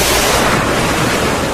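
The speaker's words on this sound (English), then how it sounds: "A single swipe of its huge fluke churns mountainous waves." Open ocean waves churn in a steady, loud, broadband roar with no break, sounding close and continuous, like heavy surf and wind-driven sea.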